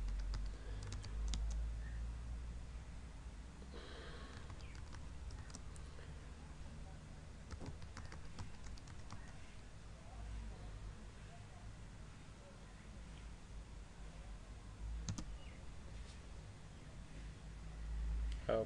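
A password being typed on a computer keyboard for a Telnet login, with soft scattered key clicks that are faint against a low room hum across the whole stretch.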